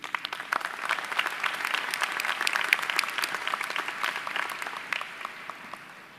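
Steady applause from a large audience at a business school commencement ceremony, a dense wash of many hands clapping that holds for several seconds and then begins to thin at the end.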